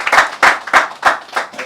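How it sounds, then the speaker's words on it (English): A few close, loud hand claps in an irregular burst at a Stardust magazine cover unveiling with Irrfan Khan, five or six sharp claps over under two seconds. "All right, please give him a huge round of applause."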